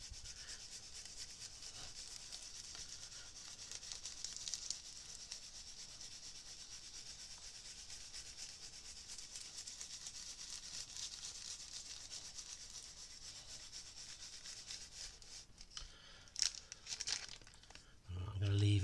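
Steady rubbing and scrubbing on greaseproof paper, working ink off a monotype print, runs at an even level throughout, ending in a few louder crinkles and handling noises.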